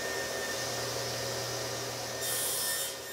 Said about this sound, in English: I'm going to get started by cutting the pad for the sander, and that's from the 1/2-inch plywood